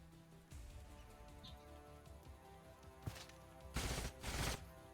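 Gunfire in the video game Age of Wonders: Planetfall, heard as scattered light shots followed by two loud, dense bursts near the end, with a quiet game soundtrack underneath.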